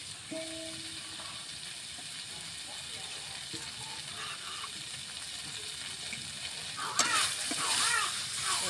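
Potol and potato sizzle steadily in a hot pan, then water is poured in, setting off a louder burst of bubbling hiss toward the end; a voice speaks faintly underneath.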